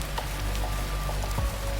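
Rain patters evenly on the steep roof of a small two-storey hotel set back from the road at night, a constant soft hiss with occasional louder drops and a faint low thump.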